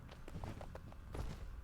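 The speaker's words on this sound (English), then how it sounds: "The pitter-patter of footsteps." Faint, quick footsteps patter in Dust: An Elysian Tail, about eight soft regular steps over a low background hum.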